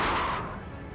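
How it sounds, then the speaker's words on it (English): Cannon fire from 12-pounder guns in the Napoleon Total War strategy game: one loud, broad boom at the start that rolls off into a decaying rumble over about a second. "The howl of the 12-pounders."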